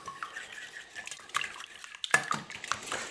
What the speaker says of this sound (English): Then violently whisk the eggs.